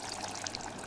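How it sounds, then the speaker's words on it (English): Milk pours steadily into a cup of Kenyan caramelised chai, a brief soft liquid splash and trickle heard alone and close. "Let's add the milk."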